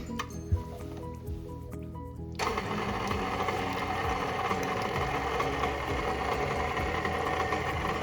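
An electric stand mixer whirs steadily as it beats buttermilk pie batter with melted butter in the bowl. A few light clinks come first, then the motor starts and runs on as a constant close drone.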